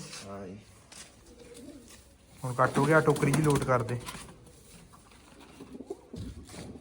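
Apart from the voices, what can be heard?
pigeons cooing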